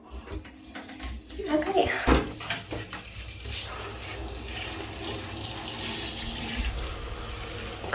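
Shower water runs steadily over houseplants being watered indoors, a continuous close hiss and splash that grows fuller after a few seconds. A person speaks briefly over it.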